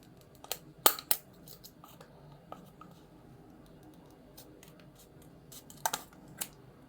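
Scissors snip through material while a homemade air-powered rocket is being built, with several sharp close cuts in quick clusters near the start and end, separated by quieter handling.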